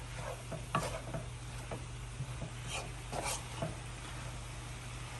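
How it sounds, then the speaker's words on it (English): Vegan vegetable chow mein being stirred and mixed in a pan, with soft scraping strokes at an irregular pace over a faint sizzle and a steady low hum, no talking. "We'll mix it well."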